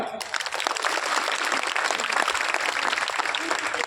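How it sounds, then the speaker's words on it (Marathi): An audience at an outdoor village gathering for Shiv Jayanti claps in a dense, sustained round of applause that stays loud and even throughout. "सर्वांनी टाळ्या वाजवा"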